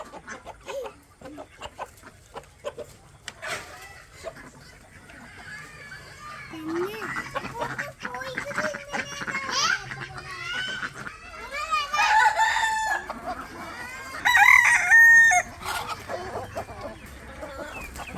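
Chickens cluck steadily close by, and a rooster crows loudly partway through, with occasional voices in the background.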